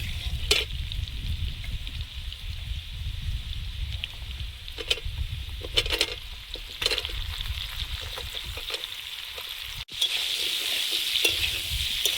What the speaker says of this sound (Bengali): এবার পটলটা দিয়ে দেবো।